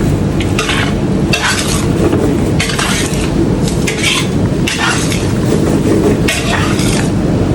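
Chicken is stirred into masala in a pan with oil and coconut milk, a loud close clatter of spoon strokes in a regular rhythm over a constant sizzle, no speech.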